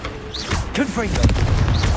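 A Confringo spell blast from Hogwarts Legacy: a short booming burst with whooshing magical sweeps lands amid shouted voices and other spell effects, close and fairly loud.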